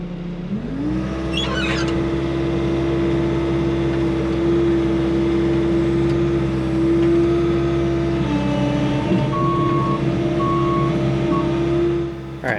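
A Bobcat skid steer starts up and settles into a steady loud diesel drone, then backs up with its reversing alarm beeping in a regular on-off rhythm over the running engine.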